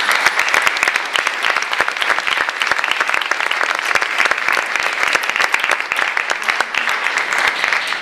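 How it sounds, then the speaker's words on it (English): Dense, steady applause from an audience at a religious debate event, many hands clapping together loudly and continuously with no talk over it. "Let's give another round of applause to both of our debaters."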